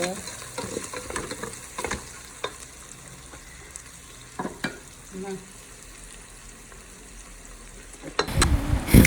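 Ginger and green chili stirred in a hot pan, giving a soft, steady sizzle with light scraping strokes through most of the stretch, then a louder burst of clatter near the end.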